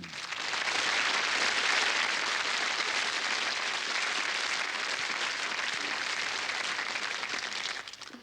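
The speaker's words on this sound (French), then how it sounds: "Vous allez l'applaudir bien fort" A studio audience on a French TV variety show applauds a guest, steady dense clapping that swells and holds for several seconds without voices.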